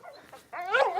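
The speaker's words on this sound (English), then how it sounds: "Oh, my God, she said there's a dog." A dog at a marina gives a short whimpering yip and a bark, close and fairly loud after a quiet moment.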